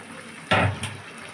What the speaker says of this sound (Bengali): মিশিয়ে নিয়ে এর মধ্যে আমি দিয়ে দেব সামান্য পরিমাণে জল।